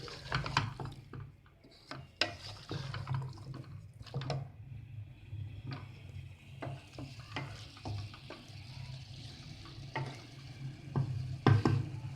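Spiced potato and carrot being stir-fried in a pan: a soft, steady sizzle under repeated scraping and clacking of a spoon against the pan, fairly close and low in level, with no talking.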